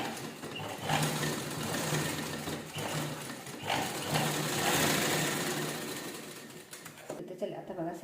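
A sewing machine stitches down a small garment pocket in sustained close runs with slight pauses, humming and rattling steadily over most of the stretch before easing near the end.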